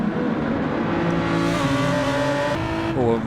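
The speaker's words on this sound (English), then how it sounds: "on and off the throttle a lot there by the sound of it" A race car engine in Gran Turismo 7 drones steadily with repeated throttle lifts and reapplications, its pitch rising and dipping, then a quick upshift-like jump near the end; loud and close.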